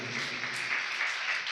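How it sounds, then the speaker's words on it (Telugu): A church congregation clapping during a Sunday sermon, a dense, steady patter of many hands heard from a moderate distance, continuous throughout. "చప్పట్లు కొట్టాలి"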